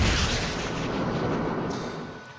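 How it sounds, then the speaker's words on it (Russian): Su-25 attack aircraft firing unguided rockets on an electronic training range in Kyrgyzstan: a sustained, loud rumbling roar of rocket fire that swells at the start and slowly fades, heard from a distance with no voices. "сейчас можно наблюдать работу летчика авиационной базы по применению неуправляемого ракетного вооружения"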